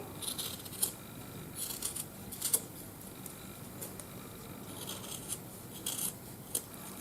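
Scissors snip through material cut down to size for handmade keychain pendants, a string of short, crisp cuts at an uneven pace, close by and fairly quiet, with light rustling of the material between them.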